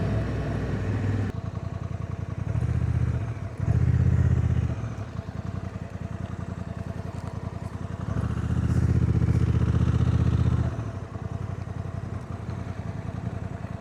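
A Honda Africa Twin motorcycle on the road, its engine droning steadily with rises in throttle and a loud rumbling surge twice, wind rushing past, heard from the rider's position without talk.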